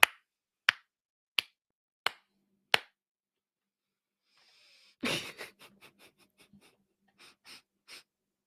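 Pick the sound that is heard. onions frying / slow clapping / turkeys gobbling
slow clapping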